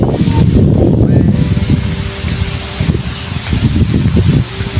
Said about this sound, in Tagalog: Grabe yung hangin talaga,